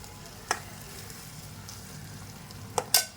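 A peas mixture roasting in a pan makes a faint, steady frying hiss, broken by three sharp clicks of a utensil against the pan near the start and end.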